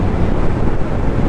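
Strong wind buffets the microphone on a 2023 Honda motorcycle ride, a loud, continuous roar with no breaks.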